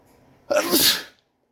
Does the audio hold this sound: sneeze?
yes